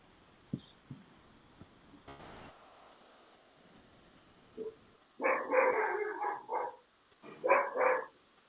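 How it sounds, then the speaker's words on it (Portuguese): Several excited dogs bark in loud, rapid bursts at a home in the evening, two clustered volleys after a few faint yips and thumps, with no talk over them. "Seus cães estão animados, não?"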